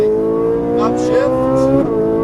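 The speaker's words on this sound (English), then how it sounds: "Start squeezing the throttle to the exit cone, down the straightaway as fast as you would like." A Ferrari 458 Italia engine pulls hard on a track, one loud rising engine tone that climbs steadily and then drops briefly, as if at a gear change, with a voice speaking over it.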